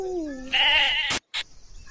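A voice mimics a sheep's bleat with a wavering, nasal tone, followed by a short sharp noise and a brief pause.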